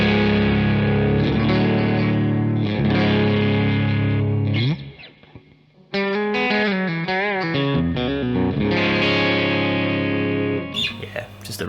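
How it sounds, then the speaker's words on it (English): A detuned single-coil Telecaster in C standard played through a Ratajczyk Cream Reverb amp: loud, thick distorted chords ring out, break off briefly, then return with shifting sustained notes and a final scrape. "Here we have my Telecaster that is in C standard."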